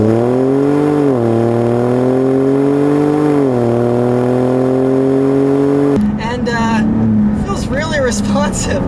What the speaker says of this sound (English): you also do have a good amount of actual real wastegate noise going on